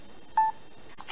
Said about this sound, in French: quand vous appuyez vraiment sur le pavé numérique 1, 2 fois, 3 fois, 4 fois, vous avez des boîtes de dialogue